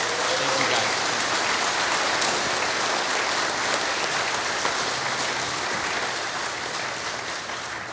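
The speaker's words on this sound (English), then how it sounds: "Let's give them a round of applause" An audience applauds continuously and loudly at an aviation event stage session, a dense wash of clapping lasting the whole stretch and easing slightly toward the end.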